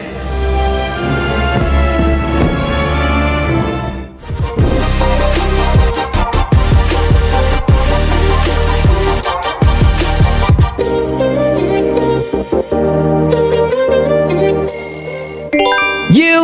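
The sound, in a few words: Walt Disney audio logo sound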